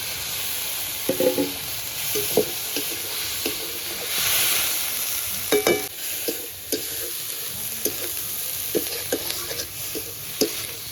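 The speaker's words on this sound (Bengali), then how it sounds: "লাল শাকটা দিয়ে ভালো করে নাড়িয়ে চাড়িয়ে নেব" Red amaranth leaves fry with a steady sizzle and hiss in a pan while a spatula scrapes and stirs in repeated sharp knocks, close and moderately loud, without talk.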